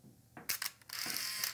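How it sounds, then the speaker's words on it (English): A Canon AF35M (AutoBoy) 35mm film camera fires its shutter: quick close mechanical clicks, then a brief whirring motor burst and a final click, all alone and up close. "our shutter is opening and closing"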